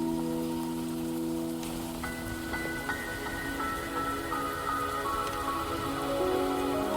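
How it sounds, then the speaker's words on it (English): Steady rain patters over an ambient soundscape in the game Wuthering Waves, with soft sustained musical tones layered underneath; no speech. "Don't worry, the rain won't last much longer."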